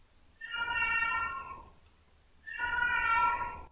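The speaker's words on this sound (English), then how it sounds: "Hello, kitty." A pet ginger cat gives two drawn-out meows separated by a short pause, close and clear against a quiet room with no talking.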